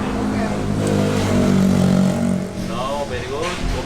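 A scooter engine with worn clutch plates runs at a steady, loud drone with a low, buzzing hum that eases slightly midway, and people talk over it.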